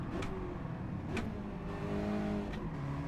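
An Aston Martin DB5 engine in Gran Turismo 7 hums steadily from the in-car view, its pitch shifting slightly with a few brief clicks over a continuous drone.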